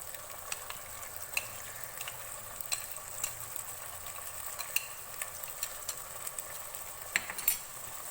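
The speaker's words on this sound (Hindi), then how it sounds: "प्याज को डाल के भूनेंगे। कड़ी पत्ता शामिल करेंगे" Onions fry with curry leaves in a pan over a medium flame, a steady close sizzle broken by frequent light stirring scrapes and small spoon clicks.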